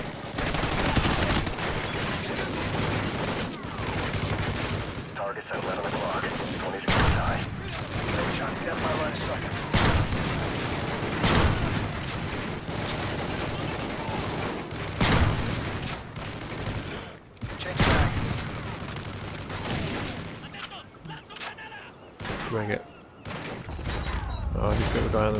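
Sustained automatic gunfire in the video game Call of Duty: Ghosts, with dense bursts of rifle and machine-gun fire and occasional booms rolling on continuously while someone talks over the action.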